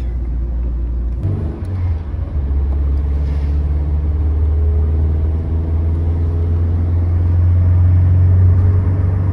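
An Alfa Romeo SportWagon Loden being driven, its steady low engine drone and road rumble filling the cabin throughout, swelling slightly toward the end with no talk over it.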